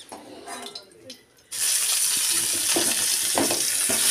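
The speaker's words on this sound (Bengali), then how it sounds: "এরপর আমি ফুলকপিগুলো ভেজে নেব।" Fresh cauliflower pieces frying in oil: after a quieter opening with faint kitchen noise, a loud, dense hiss of sizzling oil bursts in suddenly and holds steady to the end.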